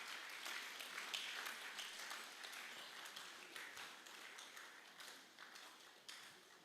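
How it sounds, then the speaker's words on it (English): A crowd at a statistics day data fair keeps up steady applause, many hands clapping in a continuous, fairly distant wash that slowly thins over several seconds, with no talking. "Let's keep clapping whilst he's taking."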